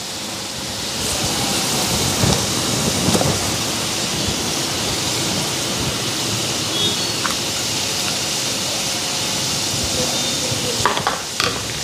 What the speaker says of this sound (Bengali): তো এক তেলের মধ্যে মশলাটা ফ্রাই হয়ে গেল।